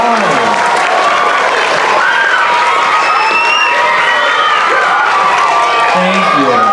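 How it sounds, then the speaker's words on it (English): Audience applause and cheering fill a holiday concert hall after a children's choir performs, loud and steady throughout with shouts and voices mixed into the crowd noise. "Give them a round of applause."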